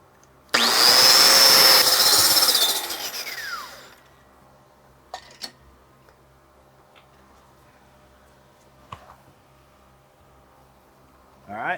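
Overhead T-plate welding with hardwire makes a loud, steady hissing crackle with a faint whine for about three seconds, then cuts out, leaving quiet with a few scattered clicks and knocks.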